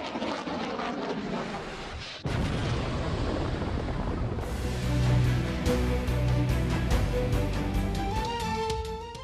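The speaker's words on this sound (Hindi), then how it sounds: "जमीन से जमीन तक मार करने वाले नसर मिसाइल का कामयाब तजुर्बा।" A Nasr surface-to-surface missile test launch, with a sudden loud roaring blast followed by a sustained rumbling rocket roar, overlaid with dramatic news music.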